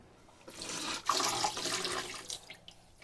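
Water runs steadily from a tap while hand-washed yarn is rinsed of soap, a broad splashing rush that swells after the first half second and stays fairly loud before easing off, with no talking.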